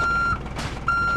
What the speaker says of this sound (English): We need to bring the truck over here.